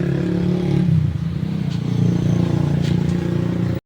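A vehicle engine idles and runs steadily at close range, a low rumbling drone with light clattering and a couple of faint knocks, holding even until it cuts off abruptly.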